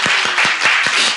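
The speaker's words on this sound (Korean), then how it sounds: "우리 하나님의 박수로 한번." Congregation in a church clapping together for about a second, several sharp, evenly spaced claps close by with a steady crowd wash behind them.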